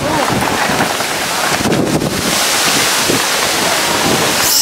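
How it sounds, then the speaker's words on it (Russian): Strong seaside wind buffets the microphone in a loud, continuous roar, with surf-like rushing underneath and brief bursts of gusting. "Сегодня прямо ветер очень классно."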